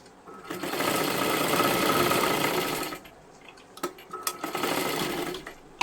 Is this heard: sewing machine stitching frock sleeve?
yes